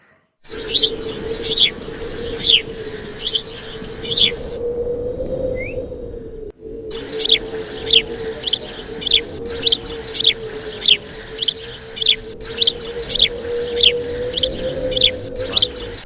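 Birds perched on the wire of a small ropeway at Malayadi Mala Sree Mahadevar Temple chirp in repeated bright bursts over a steady low hum, the calls clear and regular, briefly cut off midway.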